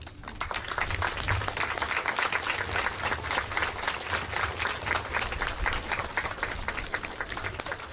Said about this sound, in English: Let's have them stand up and let's give them a round of applause too.